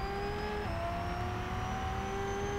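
A Lamborghini Sesto Elemento accelerates in the racing game Real Racing 3, its engine a sustained rising whine that dips briefly at a gear change and then climbs again, steady and unbroken.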